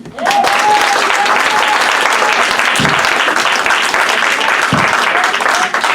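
Congregation applauding a pastor at a Sunday morning church service, loud steady clapping that fills the whole stretch with little pause.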